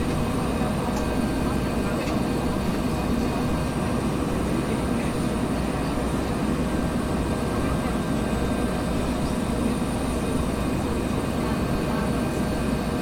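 A Bell 412 helicopter in the X-Plane 11 flight simulator flying through weather, producing a steady, dense rotor and engine roar that drones on without pause.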